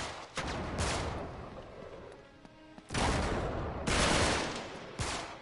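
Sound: gunfire in video game Uncharted 3

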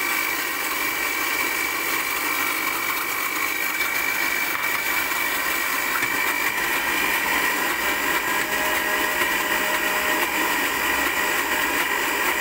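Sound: blender mixing milk into cream cheese spread

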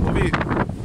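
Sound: wind blowing

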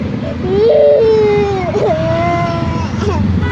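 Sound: toddler crying after getting hurt

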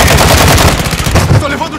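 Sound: gunfire in video game Call of Duty Warzone 2

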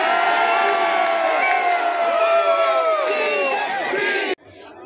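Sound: crowd chanting "Diesel, Diesel" slogans during a speech

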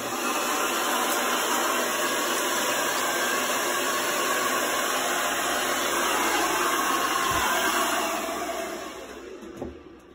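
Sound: hair dryer drying hair

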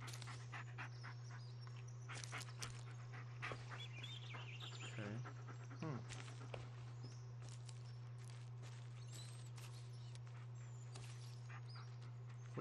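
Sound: dog panting from Blair Witch video game

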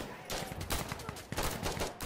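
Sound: gunfire in the video game Insurgency Sandstorm

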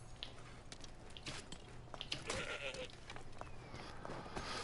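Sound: goat bleating in Assassin's Creed Origins video game

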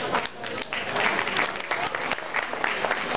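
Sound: audience applause for chamber president Peter Ye

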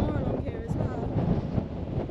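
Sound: wind on a hilltop ridge

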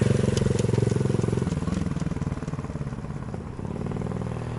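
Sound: Honda Super Cub motorcycle riding around a parking lot

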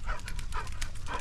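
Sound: puppy dogs playing

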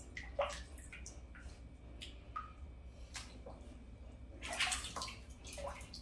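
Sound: Cane Corso dog being washed in a bathtub

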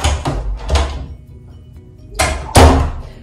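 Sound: front door of a student dorm room

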